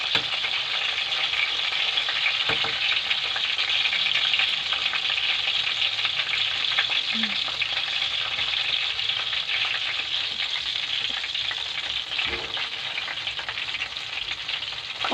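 Chicken marinated in garlic, calamansi and fish sauce fries in hot oil with a steady, dense sizzle close by, broken now and then by faint stirring scrapes and soft clinks.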